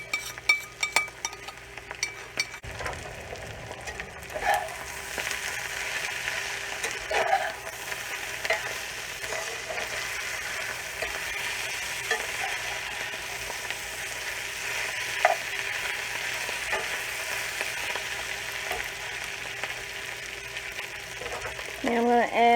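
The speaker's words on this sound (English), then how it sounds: "I'm going to add my ground beef back to the pan." Browned ground beef and its juices fry steadily in a pan, a constant close hiss and sizzle with occasional utensil clinks and scrapes, while a person talks at times.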